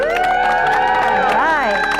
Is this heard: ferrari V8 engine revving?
no